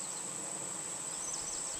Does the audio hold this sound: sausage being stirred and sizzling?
no